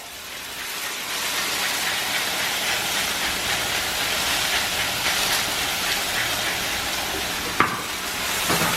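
Shallots and garlic sizzle in a pan with broccoli rabe, a loud, steady crackling hiss like heavy rain that holds throughout, broken by one sharp clink near the end.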